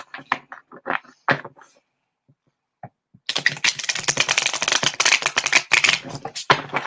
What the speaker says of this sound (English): after I shuffle about 100 times